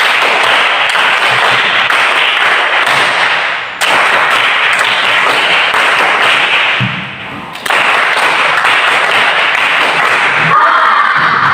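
A classroom of students claps in a rhythmic 'tepuk 1, 2, 3' pattern during an Indonesian sociology lesson on social institutions, producing loud, dense bursts of hand claps in sections broken by short pauses, close and filling the room.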